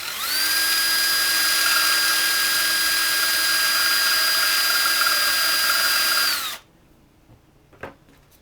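A cartoon spinner being spun, with one side hitting: a loud, steady high-pitched whine rich in overtones runs for about six seconds, then cuts off abruptly, followed by a quiet moment and a single short knock.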